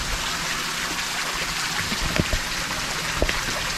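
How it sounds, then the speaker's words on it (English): Water from an outdoor wave pool pours down in a steady, waterfall-like rush, a constant splashing hiss close by with a few sharper splatters. "it also makes like a really nice, cool waterfall sound out here too"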